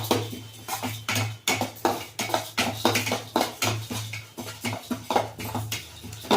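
A spoon steadily scrapes and clinks in a pan while chutney powder dry-roasts, the strokes repeating in a quick, even rhythm, close and clear, with no talking.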